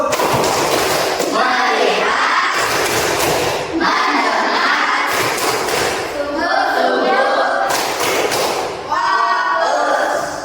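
An Indonesian school class performs the rhythmic 'tepuk fokus' clapping chant, a loud, dense burst of group claps and shouted chanting that swells and pauses in repeated phrases over about ten seconds.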